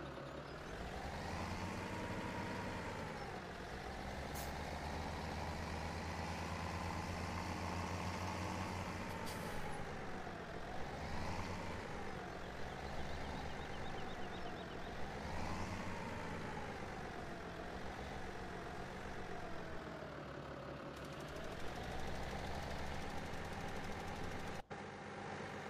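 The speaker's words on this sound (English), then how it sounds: "that's my fertilizing machine on my tractor" Tractor engine pulling a fertilizer spreader in the farming game Farming Simulator 2017, a steady, loud, continuous drone with gently rising and falling pitch and a brief hissing release near the end, no talking.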